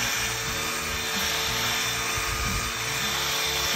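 A power drill fitted with a scrubbing brush works over car upholstery, giving a steady grinding, rubbing whir with uneven low rumble, close and continuous with no talk.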